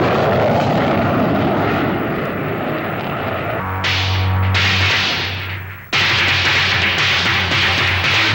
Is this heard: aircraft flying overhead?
yes